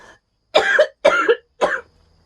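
Three close, harsh coughs in a row from one person, each short and forceful with brief pauses between, loud and near against an otherwise quiet room.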